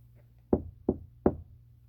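Three sharp knocks on a door, evenly spaced and close by, with a faint low hum beneath and no voices.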